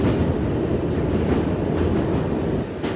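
ShivGanga Express train crossing the Ganga river bridge at night, heard as a steady, loud rumbling roar of wheels and carriages with wind-like rushing, continuous throughout with no voices.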